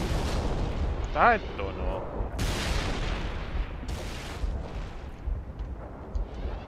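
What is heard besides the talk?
explosions in video game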